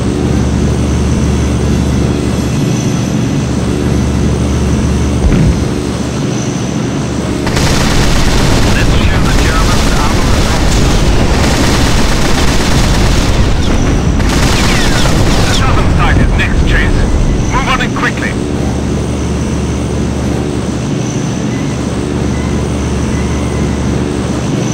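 Aircraft engines and gunfire in a WWII air combat video game over Normandy: a loud, constant engine drone with dense bursts of machine-gun fire and explosions in the middle, and game music and a voice mixed in.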